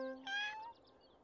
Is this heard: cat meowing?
yes